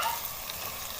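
Red chili powder, turmeric and crushed dried coriander fry in a pan with a brief, close, steady sizzle and a faint scrape at the very end.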